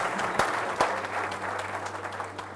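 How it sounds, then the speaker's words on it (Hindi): A church congregation at a Friday testimony service claps loudly and steadily, a thick continuous burst of applause with a couple of sharper accents near the start. "जोरदार तालियां बजाएं"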